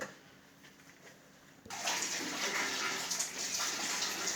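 Water bursts into a rush while dirt is flushed from a home heating radiator during boiler and radiator servicing, going from near quiet to a loud, steady gushing flow that continues to the end.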